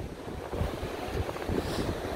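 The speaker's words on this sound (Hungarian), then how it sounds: "Nagy hullámok." Big waves break and surge along a shore under gusting wind that buffets the microphone, a continuous rough wash of water with louder swells, nearby and without talk.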